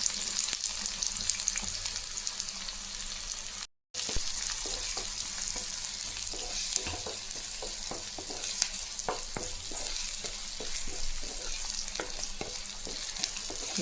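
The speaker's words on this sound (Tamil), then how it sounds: "நல்லா பொன்னிறமாக வதக்கலாம்." Chopped onion with fennel seeds sautéing in hot oil in a pan, a steady close sizzle broken by scraping stirs and clinks of the spatula, with no one talking.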